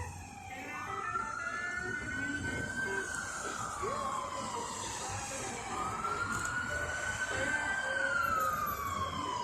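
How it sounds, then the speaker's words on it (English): An ambulance siren wails past on Piedmont North Avenue, its rising and falling tone sweeping loud over steady traffic rumble, swelling nearer toward the end. "and there's an ambulance"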